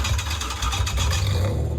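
A jeep engine starts and runs loud and close, with a deep rumbling idle and a rough, throbbing texture and no talking.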